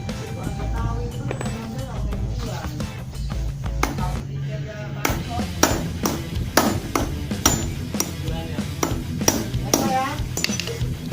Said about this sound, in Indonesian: Jadi kita ketok dulu dari sini, dia mau nggak nanti lepas lewat sini ya, keluar lewat bagian sini